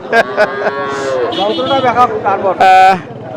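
Cattle at a village cattle market in Ramganj where small cows are sold: several loud, close moos with a long drawn-out call near the end, while people talk throughout.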